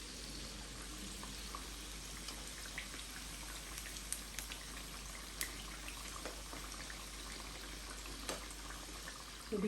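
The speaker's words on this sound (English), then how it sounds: "put the batter coated bananas into the oil" Batter-coated bananas fry in hot oil for banana fritters, a steady close sizzle and bubbling with scattered pops and crackles.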